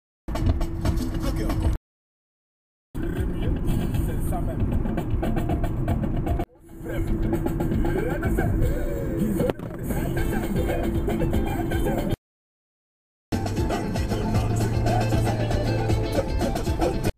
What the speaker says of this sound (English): So this is what I wanted to avoid, the traffic, and there is so much traffic.